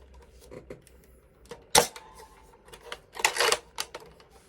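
Close mechanical clicks and clacks come from working the bolt of a Nerf Rival Jupiter bolt-action blaster, one sharp snap followed by a cluster of rattling clicks over quiet background.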